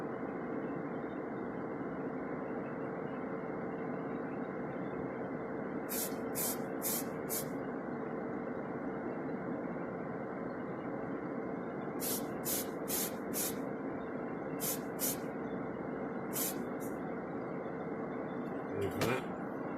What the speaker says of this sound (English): Right, ready a bit of spraying.